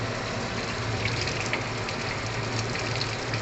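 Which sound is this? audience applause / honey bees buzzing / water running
water running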